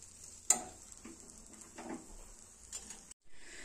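Rava kesari being stirred in a pan with the gas about to be switched off, a soft scraping and faint sizzle running steadily near the mic, with one sharp knock of the spoon against the pan and a brief pause near the end.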